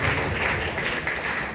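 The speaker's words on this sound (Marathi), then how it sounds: "अरुणजींसाठी एकदा जोरदार टाळ्या पाहिला." Audience applause for Arun at an Indian film event, steady and continuous for the whole stretch without distinct individual claps, no talk over it.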